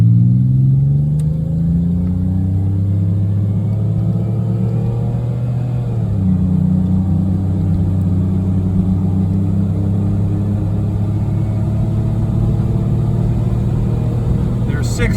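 A 1990 Oldsmobile Cutlass Supreme's engine pulls hard while driving, its droning tone climbing steadily, dipping at a shift, then rising again under steady cabin rumble.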